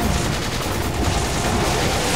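Dense, continuous gunfire from a Resident Evil 5 co-op session, loud and sustained with no clear gaps between shots, a busy wash of game combat noise throughout.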